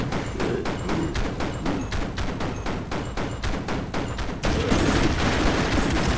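Rapid gunfire from Broforce rattles in a fast, regular stream of sharp shots, loud and close, and turns denser and louder for the last couple of seconds.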